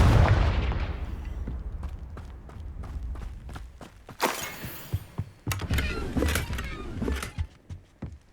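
Confringo fire-spell blasts in Hogwarts Legacy: a heavy boom opens, then a run of sharp, punchy explosive cracks and thuds in quick irregular succession, no speech.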